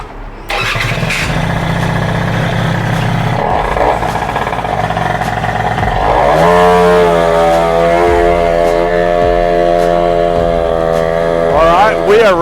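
A Yamaha Passola scooter fitted with a swapped 3KJ engine starts up and revs, its small two-stroke engine buzzing loud and close, pitch rising and settling as it pulls away.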